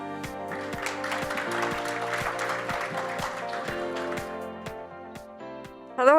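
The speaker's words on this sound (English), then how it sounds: "Would you please welcome our panel with a round of applause." A conference audience in a hall applauds to welcome a panel, dense steady clapping that holds at moderate level for several seconds and then thins out, with faint music underneath.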